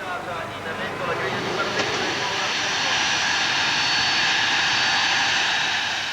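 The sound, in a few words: private jet aircraft engine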